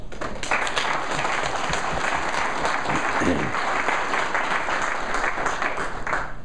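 An audience at a 2012 Maryland Republican Senate primary debate applauds the candidates. Dense, continuous clapping fills the room at a steady level throughout, with faint voices mixed in.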